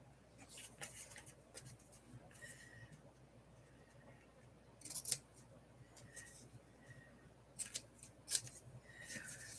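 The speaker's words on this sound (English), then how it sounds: "let's cut these corners" Scissors snip off the corners of journal pages, a series of quiet, crisp close cuts spaced irregularly over faint background noise.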